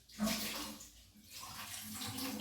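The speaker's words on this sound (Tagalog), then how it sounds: "pinapump nila yung tubig, nililipat" Water being pumped and moved from one container to another, a steady gushing, splashing flow that surges and eases, fairly close and loud, with no talking.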